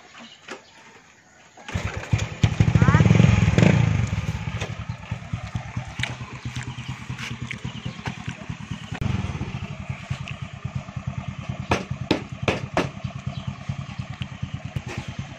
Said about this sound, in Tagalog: isang motor lang ang ginagamit namin para sa aming transportasyon kada araw